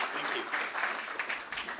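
Steady applause from an audience at a company stock listing ceremony, dense even clapping filling the room as a guest is welcomed to the stage, moderately loud throughout with a faint voice underneath.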